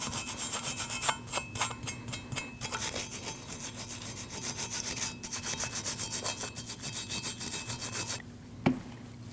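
Rear brake mounting surfaces on a 2012-2021 Nissan NV2500 being cleaned produce steady, rhythmic scraping strokes up close, with a short metallic ping near the end.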